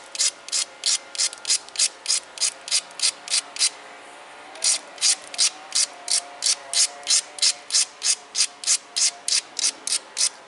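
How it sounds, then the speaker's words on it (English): Grinding the edge of a tiger chert flint point: quick rhythmic scraping strokes, about two to three per second, each a sharp raspy rub, with a brief pause midway before the close, steady strokes resume. "In fact, let's grind the whole thing."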